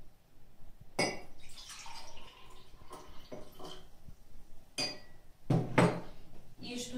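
Brine is poured into a pot of fresh-cabbage soup with half-cooked potatoes, giving splashing and trickling liquid alongside clinks of a utensil against the pot, fairly close and quiet.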